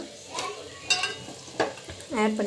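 Green peas and potato sautéing in a pan, with scattered scraping and clinking of a utensil against the pan and a soft sizzle underneath, close by, with a brief vocal sound near the end.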